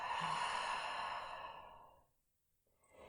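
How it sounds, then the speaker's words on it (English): A long, close, audible exhale from a person breathing out during a shoulder girdle stability workout, a breathy sigh that fades to quiet, then a faint breath or rustle follows. "Breathe out."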